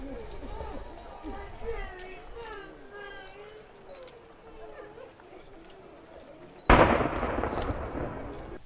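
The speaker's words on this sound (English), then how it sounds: "the chief's coffin was lowered simultaneously with an 11-gun salute" At a chief's state funeral in Okahandja, Namibia, a single loud gun blast from the 11-gun salute booms and rolls on after a stretch of someone narrating over quiet background.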